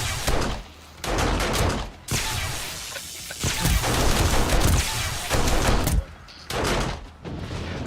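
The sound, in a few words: turret gunfire in 7 Days to Die video game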